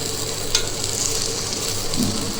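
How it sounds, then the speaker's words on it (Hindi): Colocasia (arbi) leaves fry in a wok with a dense, steady sizzle and crackle, plus occasional scraping as they are stirred. "तो जब तक ये कढ़ाई में लगने नहीं लगे तब तक इन्हें भूनेंगे"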